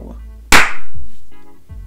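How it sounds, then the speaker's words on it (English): One sharp, loud hand clap rings out close by, a sudden crisp smack with a short ringing tail, set against quiet room sound and faint low voice murmurs. "Brilliant clap. Brilliant."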